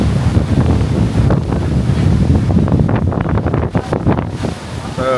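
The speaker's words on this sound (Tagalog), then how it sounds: "Sobrang lakas ng hangin," Strong wind buffets the microphone in a loud, continuous roar during low-pressure-area weather in Boracay, with surf-like rushing throughout.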